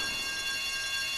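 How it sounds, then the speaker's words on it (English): Alarm bell going off in the video game Grand Theft Auto: Vice City, a continuous loud ringing tone held steadily throughout. "But right here, here comes the alarm."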